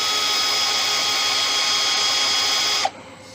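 A drill spinning 400-grit sandpaper against a turned wooden bowl gives a loud, steady whir for about three seconds, then stops abruptly and leaves near silence.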